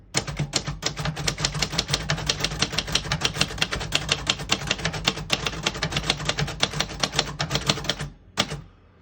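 A 1974 Royal Sabre portable typewriter clatters with a fast, steady run of crisp key strikes, close and alone, ending with a brief pause and a final clack.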